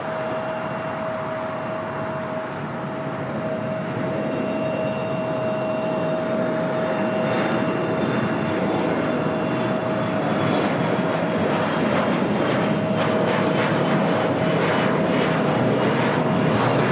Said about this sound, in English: Next takeoff, Delta Connection, SkyWest Flight 4108 heading to Albuquerque in an E175.